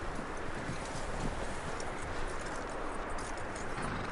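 Hooves clop in a quick steady rhythm over a rough, noisy background, as a horse trots along continuously at close range in Red Dead Redemption.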